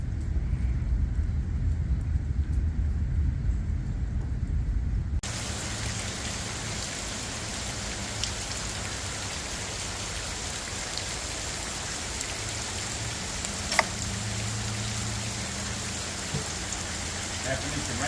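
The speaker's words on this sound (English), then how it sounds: "After it's raining this morning." Rain falls steadily at a campground on the C&O canal towpath, a soft continuous hiss with occasional louder drops after a heavier opening stretch.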